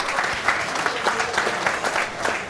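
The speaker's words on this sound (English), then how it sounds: "Round of applause." A live-show audience claps steadily, a close, dense round of applause with individual hand claps standing out, continuing without a break for the whole stretch.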